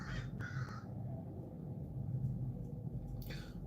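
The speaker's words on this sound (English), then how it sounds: "Those are crows." Crows cawing outdoors, a few harsh calls at the start and another near the end, heard over a steady low rumble of background noise.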